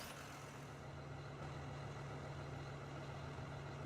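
A farm tractor idles in Farming Simulator 2013, a steady low engine drone with a constant hum, unchanging and alone throughout.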